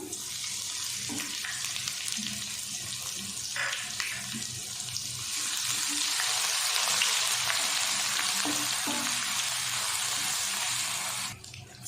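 Ginger and garlic fry in a pan of whole spices (cardamom, cinnamon, black peppercorns) for aloo matar pulao, a steady sizzle with a running water hiss that grows louder midway, plus occasional clinks.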